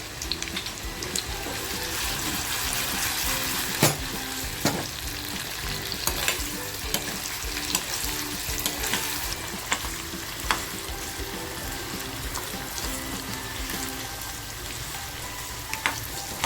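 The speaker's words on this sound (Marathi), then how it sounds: "बटाटा फ्राय झालेला आहे" Potatoes frying in oil with turmeric for a homemade matar batata bhaji, a steady close sizzle running throughout with occasional sharp clicks and stirring scrapes, no talk.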